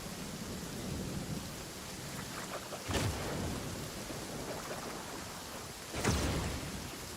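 Rain pours steadily in a Genshin Impact thunderstorm, with two sharp thunder cracks breaking through, one near the middle and another near the end.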